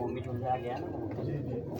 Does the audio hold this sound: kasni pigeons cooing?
yes